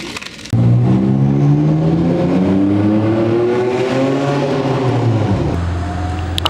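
A Ferrari F12 TDF V12 revving nearby, a loud rising and falling engine howl with sweeping harmonics that holds for several seconds before easing off, heard outdoors in Monaco.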